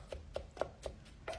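A mortar and pestle pound ingredients for poon pa, a Lao fish dish, in about five soft, evenly spaced thuds that sound close but quiet.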